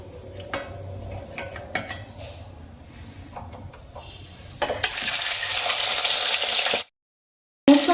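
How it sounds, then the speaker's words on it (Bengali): Fish heads dropped into very hot oil for a moong dal dish break into a loud, steady, close sizzle after some clattering of a pan and utensils. The crackle holds until a brief cut, then resumes. "এবার মাছের মাথাগুলো তেলের মধ্যে ছেড়ে দেবো"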